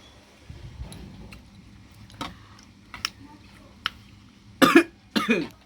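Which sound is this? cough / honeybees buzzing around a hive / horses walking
cough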